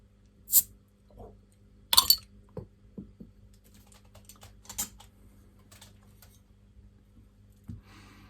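A few sharp metallic clicks and a quick hiss as a can of BrewDog Punk AF alcohol-free beer is cracked open, followed by scattered small taps and clinks in a quiet room.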